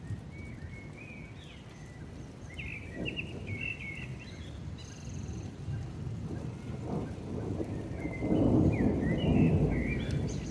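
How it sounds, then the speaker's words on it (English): Rain patters steadily while low thunder rumbles and swells toward the end. Birds chirp faintly in the background. "So there's another storm"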